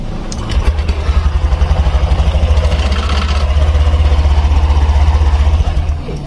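A Honda Beat 2021 scooter engine, freshly reassembled, turns over and runs with a loud, close, rapid chugging pulse and mechanical clatter, holding a steady idle for several seconds before easing off.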